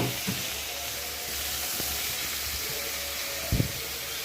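Ivy gourd with ginger and garlic sautéing in a pan gives a steady, close sizzle, broken by a few faint clicks of stirring.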